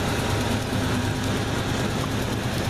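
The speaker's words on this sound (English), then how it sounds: "Duluth train!" A steady, dense low rumble and rattle of a train rolling past nearby in Duluth, continuous and loud throughout.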